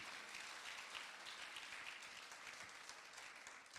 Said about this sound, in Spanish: Dele un aplauso a la palabra